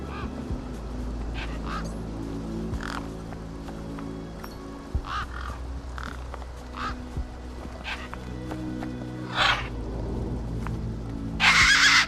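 Desert birds in the video game Beyond a Steel Sky give several short honking, goose-like calls spread through the stretch over a low steady game hum, with a louder burst near the end.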